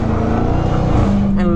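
Supercharged Dodge Charger SRT Hellcat Widebody Jailbreak driven hard from inside the cabin, a loud steady engine roar with a rising high whine layered over it, while someone talks throughout.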